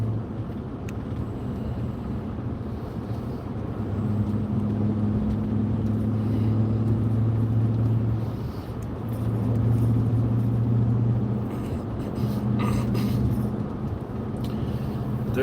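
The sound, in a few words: car driving on a long road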